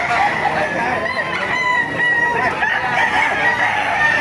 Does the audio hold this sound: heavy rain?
no